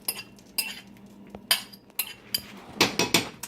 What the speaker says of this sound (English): I'm whisking as I'm adding